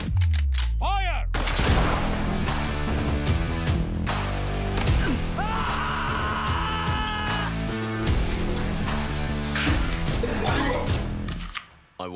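Gunfire in the trailer for the 2020 Bombay police film Class of 83, a loud, rapid volley of shots crackling over dense music and effects, close and continuous.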